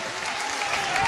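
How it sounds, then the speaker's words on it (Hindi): A crowd claps loudly and continuously at a mushaira poetry recital, dense applause filling the whole moment. "जोरदार तालियां बजाइए।"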